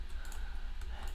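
Steady computer keyboard typing with scattered key clicks, close and continuous, during a build in the game Sanctuary with no one speaking.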